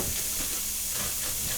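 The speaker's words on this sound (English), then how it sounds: "you get to watch chorizo sizzle for a minute" Chorizo frying in a pan gives a steady, dense sizzle and hiss, close and continuous throughout with no pauses and no voices.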